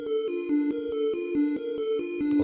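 Massive synth layer on the blink blank preset in FL Studio, trap beat context, giving a continuous buzzy, bright tone with rapid rhythmic pulses stepping between two low notes, steady and alone.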